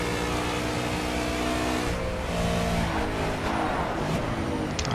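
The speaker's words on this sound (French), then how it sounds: "on a une McLaren maintenant qui est en train de nous prendre un tour. Qui passe donc sans problème" A McLaren race car in Project CARS GT Touring racing at Road America roars past with a loud, continuous engine note that shifts as it goes by, near and unbroken throughout.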